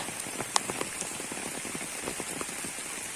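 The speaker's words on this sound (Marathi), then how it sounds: "पावसाच्या सरींचा आवाज येत असला" Steady rain falling on surfaces, with scattered sharper drops tapping nearby over a soft constant hiss.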